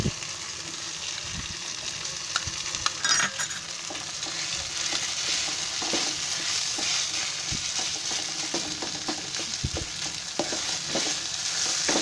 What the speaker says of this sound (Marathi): खवा घालून आहे ना, असं ते पण असं मस्तपैकी फिरवायचं.